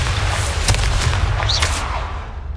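A Confringo fire spell blasts in Hogwarts Legacy with a loud, deep booming rumble, sharp cracks of impact and a brief rising whistle before it fades, with no voices.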